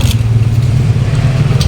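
A Yamaha Aerox V3 scooter's engine starts and settles into a loud, steady close-up idle hum.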